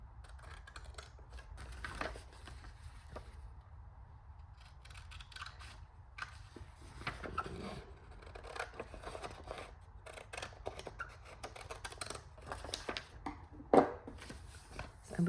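Scissors snip through paper card while trimming panels for a triple pocket envelope craft, scattered quiet cuts and handling rustles at close range, no talking.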